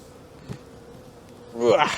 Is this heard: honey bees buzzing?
yes